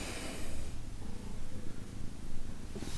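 A cat purrs loudly and very close, a continuous low rumbling vibration that rises and falls with each breath, heard alone with no talking.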